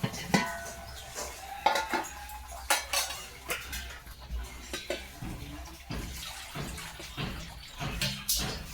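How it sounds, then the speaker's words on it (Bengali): A metal cooking pot is rinsed with water and set aside after rice is drained, giving repeated close clanks and knocks of metal against metal with splashing water between them and no talk. "আর এই হাঁড়িটা একটু জল দিয়ে এই পাশে দিয়ে দেবো।"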